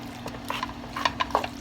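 Cream cheese is stirred into a mixture in a skillet, a few soft scraping and clicking strokes of a utensil against the pan over a low steady hum, close by.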